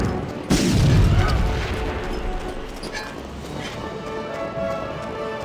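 Panzerschreck rocket fired in the Medal of Honor video game, a sudden loud booming blast with a rumbling tail that fades over several seconds, followed by faint game ambience.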